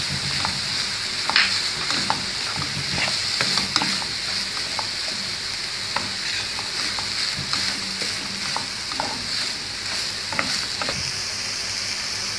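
Chicken keema frying in a pan with lime juice and spices, a steady bright sizzle with scattered crackles, spatters and occasional stirring clicks, no talk.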